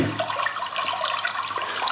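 Rushing, splashing water plays as a sound effect, a loud continuous gush with bubbling texture and no voices over it.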